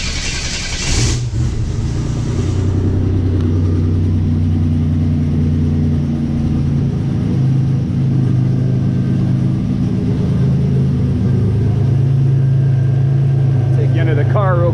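A turbo V6 Buick Regal T-Type starts up and settles into a steady idle, its low engine drone running loud and close for the whole stretch.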